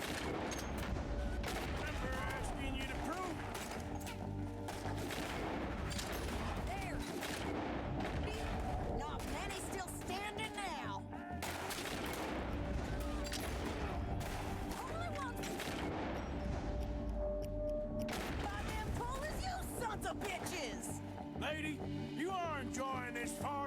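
Dense video-game gunfight with Arthur and Sadie, rapid overlapping rifle and pistol shots and booming reports throughout, loud and continuous, with character voices speaking between bursts.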